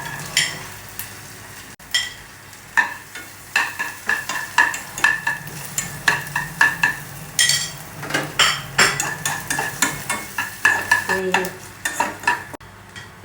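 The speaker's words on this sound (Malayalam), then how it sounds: "ഈ തേങ്ങാക്കൊത്തൊന്ന് വറുത്തെടുക്കണം." Coconut pieces roast in ghee in a pan while a utensil stirs them, giving repeated scraping, clinking strokes over a soft, steady sizzle, close and fairly loud throughout.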